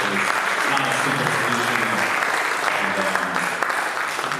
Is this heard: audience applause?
yes